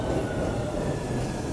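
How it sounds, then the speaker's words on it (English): A train pulls in at a station on its way into Boston, a steady loud rumble of wheels and rail noise filling the whole moment without voices. "And here comes the train, right on time. The first train into Boston."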